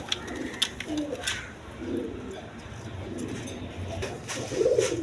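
A pair of Pakistani teddy pigeons, the male crested and the female plain-headed, give low, soft cooing phrases at close range, interspersed with light clicks and faint background rustle.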